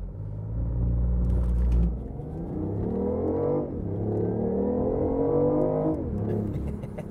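BMW i8 all-wheel-drive hybrid accelerating hard from a launch, engine note rising steadily through a gear change and climbing again, loud and close with a deep rumble; no distinct tire chirp stands out.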